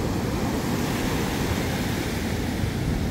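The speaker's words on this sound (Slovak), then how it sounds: "tam tie vlny nádherné, no krása" Atlantic Ocean waves on a Portuguese shore make a steady, broad surf roar with no breaks, close and moderately loud, and no voices.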